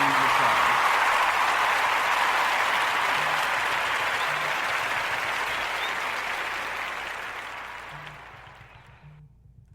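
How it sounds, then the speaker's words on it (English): An audience gives sustained, even applause at a talk about childcare assistance, starting full and steady, then thinning and fading out toward the end with no voices over it. "they deserve a round of applause"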